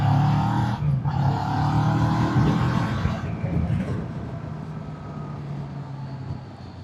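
A CF Moto 700MT motorcycle rolls along under a steady engine drone and road and wind rush, with a brief dip early on, while a rider talks quietly underneath.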